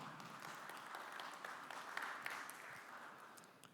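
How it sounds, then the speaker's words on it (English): Conference audience at the African Agri Investment Indaba applauds steadily, a fairly quiet, even wash of clapping from a distance that holds throughout with no clear voices. "There should be a round of applause."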